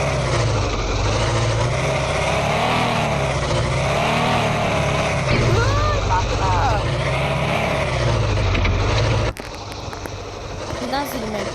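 Car engine from the Indian Car Driving 3D game, a steady droning hum with a smooth rising and falling pitch, continuing loud throughout and briefly dipping near the end, with no talk over it.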